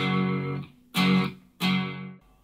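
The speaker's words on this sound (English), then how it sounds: "I've added some distortion for the lead parts." Distorted electric guitar lead tones for a song, three sustained chords or notes with sharp attacks and a dense, buzzy harmonic spread, heard alone and fairly close.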